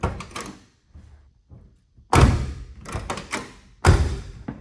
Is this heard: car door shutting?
yes